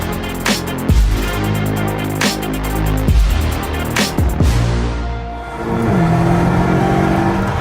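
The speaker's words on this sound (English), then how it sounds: "We're testing the BMW M models here under Arctic conditions" BMW M cars tested in Arctic conditions at minus 35 degrees pass by with repeated engine surges and whooshes, a few quick loud revs followed by a steadier engine drone near the end.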